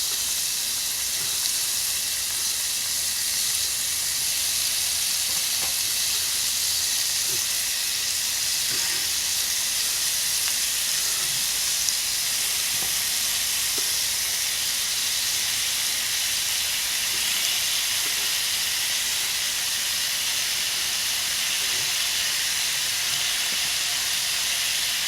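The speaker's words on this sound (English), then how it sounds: "about 1 pound of sweet Italian sausage. Go ahead and start getting this fried up." About a pound of sweet Italian sausage frying in a Dutch oven, a constant, even sizzle with faint crackles and small pops, steady and fairly close throughout.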